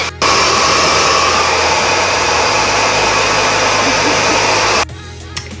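A hair dryer runs loud and steady at close range for several seconds while blow-drying hair for root volume, then cuts off abruptly, leaving a quiet tail.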